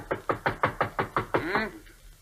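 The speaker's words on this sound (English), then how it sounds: "Knock on the door for me, will you?" Eight quick, evenly spaced knocks rap on a door in an old radio drama, close and firm, followed by a brief muffled voice as the rapping stops.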